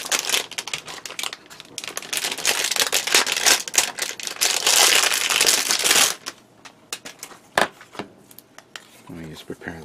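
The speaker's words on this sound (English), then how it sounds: "Then I'm going to take a brand new masking tape." A brand new 18 mm roll of masking tape is handled and unwrapped, giving dense crinkling and crackling for several seconds, then scattered clicks and taps, with someone speaking briefly near the end.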